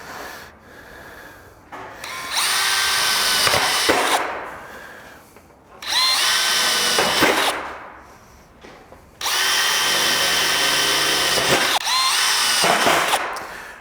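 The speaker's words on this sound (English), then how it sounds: "I usually use about an 1/8 inch drill bit" A power drill with a 1/8 inch bit bores pilot holes in metal wall panel trim, three separate whining runs that rise and settle, loud and close, with short pauses between.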